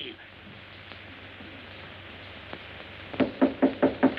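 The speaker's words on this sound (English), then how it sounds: "Why did you knock?" A series of about five sharp knocks on a door from a 1936 film, loud and evenly spaced, arriving near the end after a stretch of quiet, hissy room tone.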